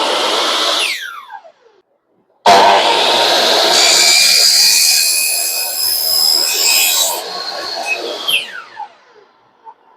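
A Makita LS1040 miter saw motor spins up with a sudden loud whine, runs steadily for several seconds and then winds down with a falling pitch, close by, after the tail of an earlier run-down.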